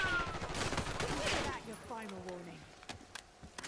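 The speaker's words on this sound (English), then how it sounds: "Shooting him." Rapid bursts of gunfire shooting zombies in Black Ops 6 Zombies, dense for the first second and a half, then sparser single shots alongside gliding game tones and a voice talking over it.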